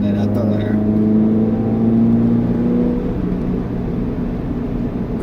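Toyota GR86 engine pulling hard uphill out of a sharp left turn, a loud steady drone with rising tonal whine, close and continuous, fading slightly toward the end.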